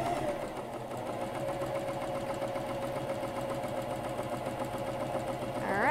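A Janome CoverPro 1000CPX coverstitch machine sewing at a steady pace, a continuous mechanical whir and rapid needle chatter heard close and even throughout.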